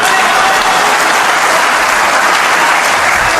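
Sustained audience applause at a Hindi poetry recital, a dense wash of many hands clapping at once, loud and steady throughout without pause.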